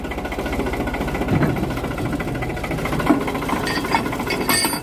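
A tractor engine runs steadily on a farm during onion transplanting, with a low, continuous, throbbing chug that stays even and fairly close throughout.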